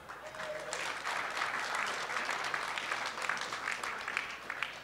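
Steady crowd applause rises at a soccer club town hall Q&A, sustained and moderately distant, with scattered sharper claps standing out near the end.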